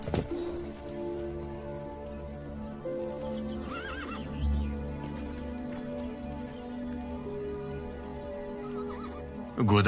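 A horse neighs loudly close by, its whinnies rising over steady clip-clop hoofbeats and a low background rumble.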